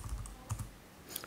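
Keys tapping on a computer keyboard while a URL is entered into a browser address bar, a short quiet burst of irregular clicks close by with no talking.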